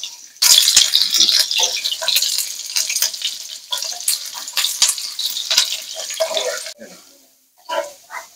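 Onions frying in a pan with green chilies added, cooked for a Bengali lote fish dish. A steady, loud sizzle runs throughout with stirring clatter on top, then drops away near the end before a brief final hiss.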